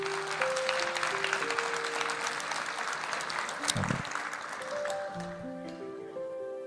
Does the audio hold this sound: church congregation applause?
yes